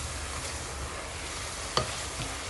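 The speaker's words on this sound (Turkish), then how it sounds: "Arada tencerenin kapağını kaldırıp karıştırıyorum" Soft sizzling of vegetables frying in a covered pot, with a brief scrape of stirring partway through.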